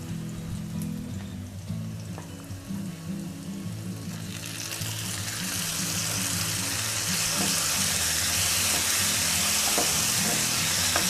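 Onions and tomatoes sizzle and fry in a pan for an Italian Swiss chard and beans dish, starting as a low crackle under kitchen noise and growing into a loud, steady hiss of steam and spitting oil.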